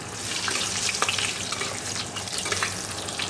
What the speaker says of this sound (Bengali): দেখো এই আলুগুলো ভেজে নেবো আগে